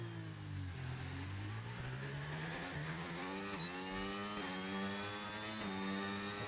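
A racing car in the Formula Asphalt video game revs hard, its engine note climbing and dropping through gear changes in rising harmonic sweeps, steady and fairly close with no speech.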